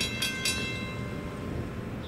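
A westbound Norfolk Southern freight train passes with a steady low rumble of rolling wagons and a couple of brief clanks near the start, fairly quiet and without talk.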